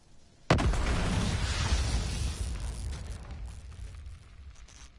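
Cluster grenades go off in a video game shooter: one sudden loud blast erupts half a second in, then a dense rumbling boom rolls on and slowly fades over several seconds.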